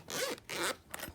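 A small zipper on the cloth case of Bowers & Wilkins PX7 headphones, three quick close rasping zip pulls heard alone in a quiet room.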